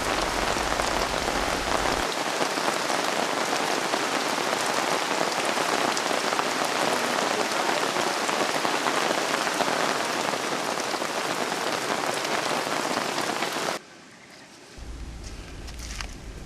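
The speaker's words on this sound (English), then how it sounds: "During our trip, it rained for 3 consecutive days, which made a lot of mud." Heavy rain falls steadily in the Petén jungle of Guatemala as a dense, close hiss of drops on surfaces, then abruptly drops in level for a moment before resuming more softly.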